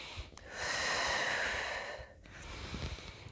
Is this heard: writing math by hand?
no